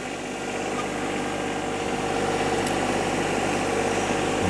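A John Deere 1025R compact tractor with a backhoe attached creeps slowly downhill, its small engine running at a low, steady drone with constant vibration, close and continuous without pause.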